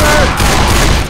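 Rapid automatic gunfire in the video game Left 4 Dead 2, loud, dense and continuous bursts filling the whole moment with no pause.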